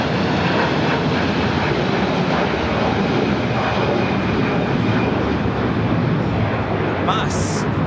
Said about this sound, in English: Mas 6811 taking off to Guadalajara, Jalisco on the A330-300 converted freighter.